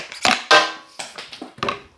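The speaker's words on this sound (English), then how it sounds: "see if I can hammer that bearing out" Sharp metallic hammer blows strike to drive a bearing out of a Bissell vacuum cleaner, about five or six uneven close knocks with short ringing decay.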